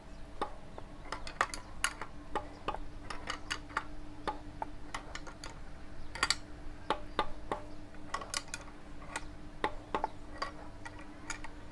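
Sharp tok tok knocks from a Yamaha 125Z two-stroke motorcycle engine during assembly, repeating in irregular clusters of close, crisp taps with no voices.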